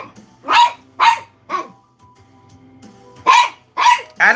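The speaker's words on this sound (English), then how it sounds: "Oh, this dog." A dog barks close by in short sharp bursts, three quick barks, a pause, then three more, loud and clear with no talk over them.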